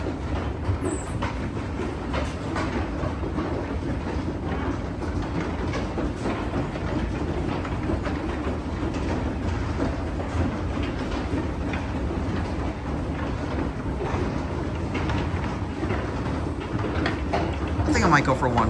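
Antique Otis wooden escalators at Macy's chug steadily with a continuous rumbling, clattering drone throughout, loud and close, with faint background sounds and a brief higher squeak near the start and end.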